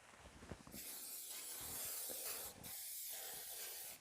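Maxima SC1 cleaner sprayed from an aerosol onto muddy dirt-bike wheels gives a close, continuous hiss that runs for a few seconds with one brief break, after a couple of faint clicks.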